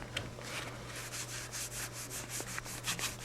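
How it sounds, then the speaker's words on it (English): A Glock 19 pistol slide being rubbed down with a cloth and a little oil after field stripping, heard as a steady run of close, soft rubbing and wiping strokes with no talk. "rub down your slide, make sure you don't leave fingerprints and all that other fun stuff on there"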